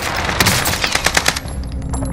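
Loud automatic gunfire in Call of Duty's Haunting of Verdansk zombie royale mode, a dense burst of sharp rattling shots close by over a noisy game backdrop, tapering off near the end.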